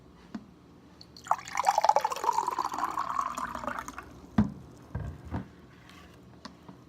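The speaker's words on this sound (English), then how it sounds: "you just want to pour some water into your cup" Water is poured into a cup in one steady stream lasting a few seconds, its pitch rising as the cup fills, followed by a few soft drips and clinks; quiet and close, with no talk.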